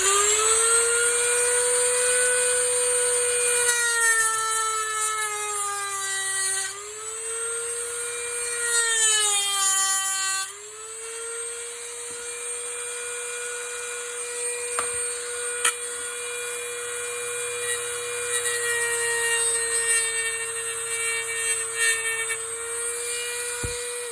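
A power tool with a steady high whine cuts through ABS plastic sheet for a boombox battery door. Its pitch dips under load a few times and then holds steady through a long continuous cut, with no talking.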